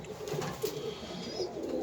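Pigeons cooing beside newborn pigeon chicks, soft repeated low coos heard close over a faint background hiss, with no talking.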